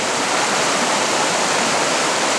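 The Baptism River in Tettegouche State Park, Minnesota, running high after heavy rain, gives a loud, steady rushing roar of fast water close by with no voices.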